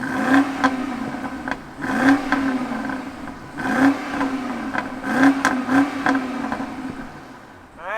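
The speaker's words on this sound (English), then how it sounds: "let's fire up this M50i and hear what it sounds like" A 2022 BMW X7 M50i with a twin-turbo engine starts and revs in several repeated surges of rising and falling engine noise, loud and close, with no talk over it.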